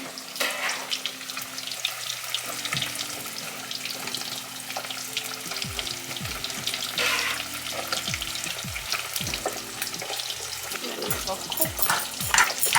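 Peach and vegetables cooking in a pot, a steady sizzle and bubbling with occasional stirring and clinks, close and continuous under background music.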